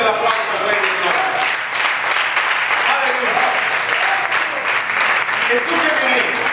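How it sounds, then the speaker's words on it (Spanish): A church congregation applauds loudly and continuously, dense sustained clapping filling the room from start to finish with voices shouting within it. "Bríndale fuerte el aplauso al Rey de Gloria."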